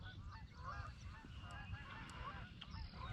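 Geese honk near a lake canal on Harsens Island, Lake St Clair, with repeated nasal calls that are soft and distant over low background rumble.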